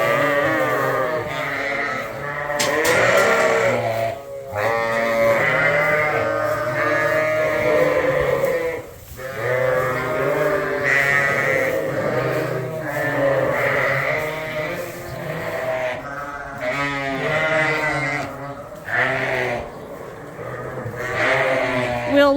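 Sheep bleat loudly and almost without pause on a farm, several overlapping calls from a flock held close by, with no talking over them.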